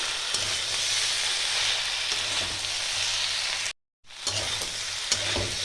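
Shredded cabbage for a Bengali vegetable chorchori frying in a pan and being stirred, a steady close sizzle with scraping stirs, briefly cut to silence before the frying resumes.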